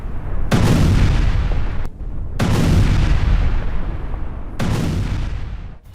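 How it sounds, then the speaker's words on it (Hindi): Three heavy booms from missile strikes roll out one after another, each a deep blast that rumbles and fades slowly before the next. "अमेरिकी हमलों के बाद धमाका हुआ है।"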